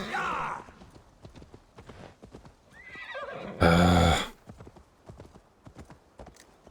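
A horse in the video game Assassin's Creed Valhalla clops its hooves steadily, then lets out a loud whinny midway, with game voices talking around it.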